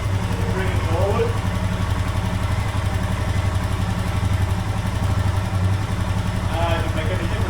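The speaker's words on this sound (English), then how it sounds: "All I can hear now is tappets rattling." A Royal Enfield Himalayan motorcycle engine idles nearby with a steady, loud thrum, its tappets ticking and rattling in a fast, even clatter.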